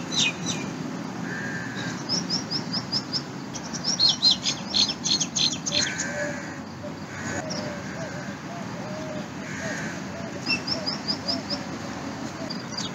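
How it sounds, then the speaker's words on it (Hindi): Birds chirp and tweet in the morning in short bursts with a few cooing calls in between, while a person talks quietly underneath throughout. "ये जो परिंदों की आवाज़ें आ रही होंगी आपको भी शायद"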